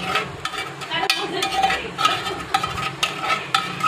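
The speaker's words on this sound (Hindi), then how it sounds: "और अब उसको इसमें मिक्स कर रहे" A sweet Eid dish made with coconut oil is stirred and mixed in a pan, giving close, rhythmic scraping and soft sizzling strokes repeated about every half second.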